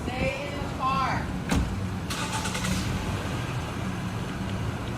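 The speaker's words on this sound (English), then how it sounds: "that sounds like a car starting up" A car engine cranks and catches, a short rumbling burst of ignition against steady outdoor background noise.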